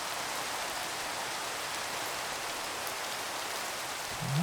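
Steady rain falls in a soft, even hiss, faint and continuous with no voices, and a brief low rumble near the end.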